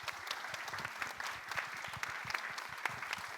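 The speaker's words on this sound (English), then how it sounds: "Can we have a round of applause, please?" Applause for the creative team and cast of a Medea production, with fairly quiet clapping from a small group and distinct individual claps.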